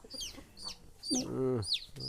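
A hen clucks in short low bursts among her chicks, whose thin high peeps come again and again close by.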